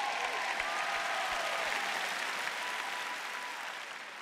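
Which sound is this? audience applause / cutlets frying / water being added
audience applause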